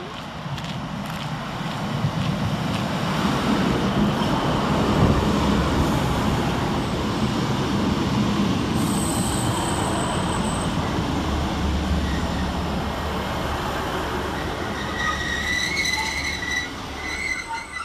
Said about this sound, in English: Next into the station here for Northern is 15133 and 15138, working the 1024 Northern service from Manchester Piccadilly to Buxton.